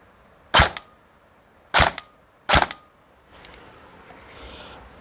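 An airsoft AEG rifle fired on semi-auto at a chronograph gives three sharp, close cracks spaced about a second apart, followed by a faint mechanical whir.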